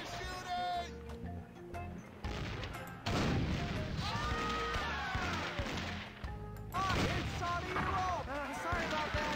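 Cannon fire in The Curse of Monkey Island, a couple of heavy booming shots with crashing impacts, accompanied by music and character voices, heard faintly under the game's sound.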